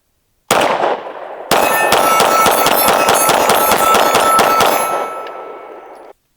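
Derya DY9 shotgun firing Federal HST rounds at a range: a single loud blast, then a rapid string of about ten close, sharp shots ringing together with metallic clangs, fading out after the final report.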